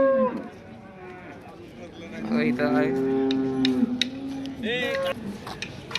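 Khillar cattle moo at an open cow market, with one long, loud bellow in the middle and shorter calls near the start and end, while people talk in the background.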